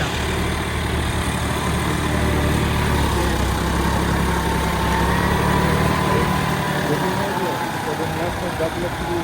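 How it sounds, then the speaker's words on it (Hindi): A tractor works a field during wet ploughing (puddling): its engine gives a steady, loud, close drone that hardly changes over the whole stretch. "देखो भाई कैसे चल रहा है ट्रैक्टर।"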